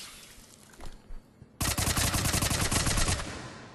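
Tempest submachine gun in Mass Effect 3 fires in full auto: a dense, loud, rapid stream of shots that kicks in suddenly and runs for about two seconds after a few quieter thuds.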